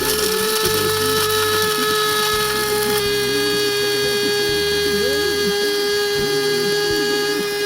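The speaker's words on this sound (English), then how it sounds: "And now grind the beans up really fine." Electric coffee grinder finely grinding espresso beans, a loud continuous steady whirring motor hum with a slight shift in pitch partway through.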